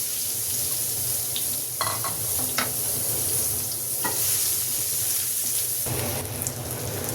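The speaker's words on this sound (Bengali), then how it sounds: "এখন এই তেলের মধ্যেই আমি একটু পেঁয়াজ কুচি দিয়ে দিই।" Chopped onion dropped into hot oil in a pan for a Bengali eggplant dish, frying with a steady close crackling sizzle throughout, broken by a few clinks and scrapes of a spoon stirring.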